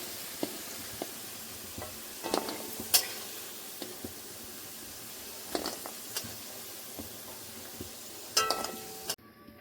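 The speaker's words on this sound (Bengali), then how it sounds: "আলুগুলো ভেজে নেব" Potato pieces fry in hot oil, a faint, steady sizzle broken by several clinks and scrapes of a utensil against the pan, with no voices.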